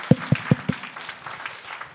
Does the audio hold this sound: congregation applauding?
yes